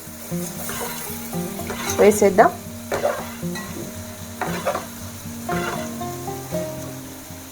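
Fish pieces and blended tomato sizzle and crackle in a hot pan for an Andhra-style fish curry, with intermittent stirring scrapes, while a voice speaks briefly over the cooking noise.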